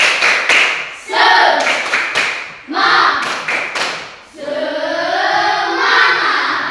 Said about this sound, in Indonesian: Ibu mau kasih dulu ice breaking. Bisa? Bisa. Oke. Tepuk semangat.